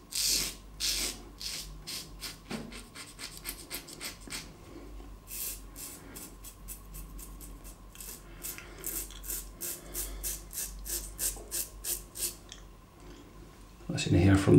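An Executive Shaving Outlaw safety razor scrapes across the grain of lathered facial stubble in a quick run of short, crisp rasping strokes, close and steady, with a faint hum and occasional soft sounds in the background.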